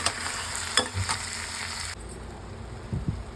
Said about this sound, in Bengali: এবার এটাকে আমি নেড়ে চেড়ে নিচ্ছি।